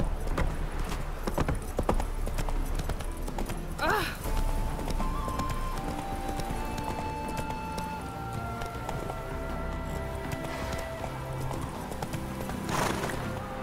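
Hoofbeats of a galloping horse in The Witcher 3 video game drum in a fast, continuous clip-clop, with occasional whinnies and a voice speaking over the ride.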